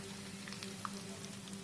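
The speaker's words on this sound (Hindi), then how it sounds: "add the first batch and then add the second batch and fry all the rice" Rice cheese balls frying in hot oil in a pan give off a steady, soft, even sizzle with faint scattered pops and crackles, quiet and close with no talking.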